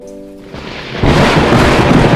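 A brief tone fades as a loud crack of thunder rolls in, followed by dense, close rainfall.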